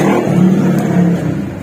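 A motorcycle engine revs close by, a loud, steady, full-throated drone that holds for the whole moment with no voices over it.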